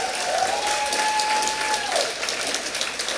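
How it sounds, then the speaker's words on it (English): A festival crowd at a storytelling event applauds loudly and continuously, a thick, even wash of clapping, with a thin sustained tone briefly threading through it. "Can we get one more round of applause, please?"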